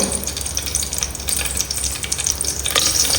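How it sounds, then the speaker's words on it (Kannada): Crushed black peppercorns and garlic fry in hot oil, a loud, close, continuous sizzle and crackle with steady spitting and no voices. "ಈ ಎಣ್ಣೆಗೆ ಒಂದು ಮೂರು ಕಾಳುಮೆಣಸನ್ನು ಈ ರೀತಿ ಕಟ್ಸ್ ಹಾಕಿದ್ದೇನೆ"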